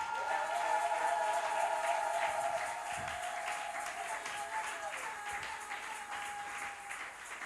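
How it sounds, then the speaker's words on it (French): A congregation at a prayer camp applauding and cheering for the Lord, sustained dense clapping and crowd noise that holds steady throughout and eases slightly toward the end, heard from within the crowd. "Que celui qui est béni acclame pour le Seigneur."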